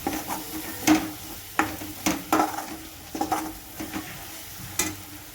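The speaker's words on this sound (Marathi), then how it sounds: "तो घालते मी दोन चमच मिक्स करून घेते मी मसाला" Biryani masala being stirred into a pan for home-cooked chicken biryani, with repeated scraping strokes of a spoon against the pan over a soft, close sizzle and no talk.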